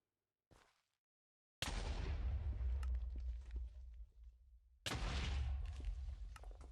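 Minecraft TNT blasts, a short pop followed by two heavy, roaring explosions that boom loudly and rumble out, the second erupting right as the first fades.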